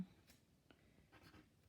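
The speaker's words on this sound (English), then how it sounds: "Let me see if I can hold and write at the same time." Pen or pencil scratching on paper during a handwritten math review, soft, close and intermittent, with a few brief strokes over near-silence.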